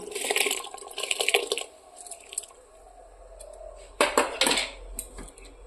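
Washed rice poured into a pot of boiling water on a home stove, giving wet splashing and soft clattering against the pot in two bursts, with a quieter bubbling stretch between them.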